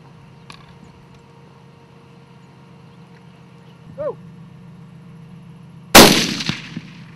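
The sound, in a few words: rifle shot fired at an impala while hunting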